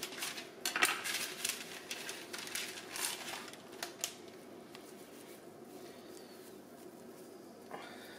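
A kitchen knife clacks against a cutting board as something is cut into three roughly equal pieces, several sharp taps and scrapes near the start that thin out into quieter handling noise, no talking.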